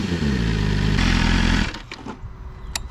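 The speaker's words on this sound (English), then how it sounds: "That's the SC Project on the 2024 BMW S1000RR." A 2024 BMW S1000RR motorcycle with an SC Project exhaust revs loudly and close for about a second and a half, then cuts sharply to a quieter idle burble with a few clicks.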